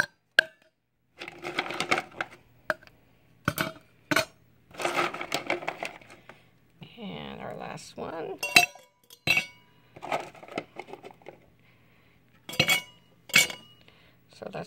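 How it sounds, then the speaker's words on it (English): Ice cubes dropped into a row of tumblers and glasses, giving sharp, bright clinks in short clusters with pauses between, close and fairly loud, with a brief spoken remark in between. "we're going to put the same number of ice cubes in each one"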